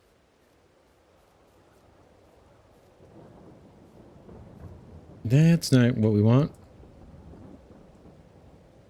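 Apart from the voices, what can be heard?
thunder in the video game Farming Simulator 22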